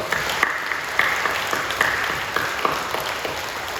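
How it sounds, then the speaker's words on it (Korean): A church congregation claps during a Sunday worship service, producing steady, moderately loud applause with distinct individual claps popping out at an irregular rhythm. "우리 사랑하고 격려하는 마음으로 박수해 주시죠"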